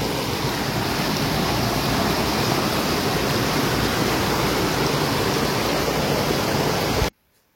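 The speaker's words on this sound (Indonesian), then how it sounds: "Sungainya nggak terlalu besar. Tapi sangat-sangat jernih." Krung Klut, a small, very clear mountain river on Gunung Leuser, rushes in a steady, loud broadband wash of flowing water that stops abruptly near the end.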